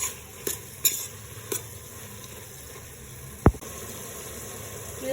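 Tomatoes for vegetable biryani sizzle steadily in a pan, with a few scraping stirs of a spoon and one sharp knock partway through, with no talking.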